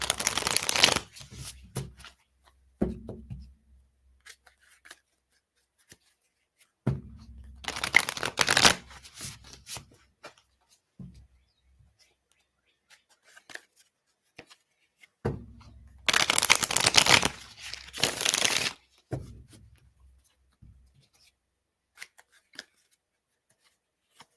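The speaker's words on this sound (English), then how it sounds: "That wasn't a very good shuffle." Tarot cards are shuffled by hand in three separate bursts of crisp riffling and flicking, close and fairly loud, with quiet gaps and small handling sounds between them.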